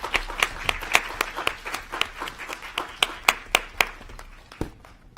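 A small group claps at a school board meeting, with distinct, close hand claps in a loose, uneven rhythm that stay moderately loud before trailing off near the end.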